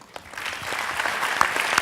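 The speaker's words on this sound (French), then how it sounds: "viens nous rejoindre sous un tonnerre d'applaudissements" An audience claps at a graduation celebration, a bright, dense patter of many hands with a few sharper individual claps standing out, steady and fairly close.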